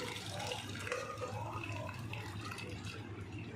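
Cooked dal water pours and trickles continuously at low volume, a steady watery splash draining through a strainer into a vessel below.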